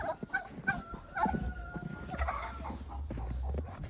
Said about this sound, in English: So that's 19 roosters.